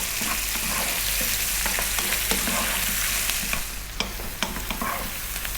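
Onion and fresh chilli frying in a pan while being kept moving: a dense sizzle with repeated scraping and clacking stir strokes up close, easing slightly toward the end, and no talking.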